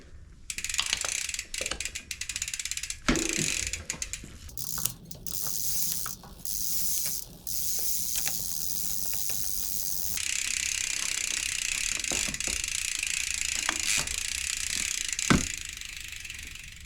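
Ratchet clicking while a mountain bike chain set is removed ahead of fitting a 30mm threaded bottom bracket, with repeated sharp mechanical clicks and rasps running steadily across the clip, close and fairly loud.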